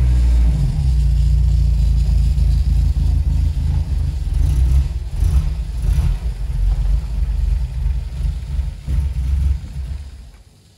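A deep, rumbling Porsche 924 Turbo engine runs loudly nearby, swelling and easing as it drives, then fading away at the end.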